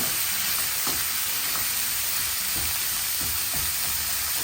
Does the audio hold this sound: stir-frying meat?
yes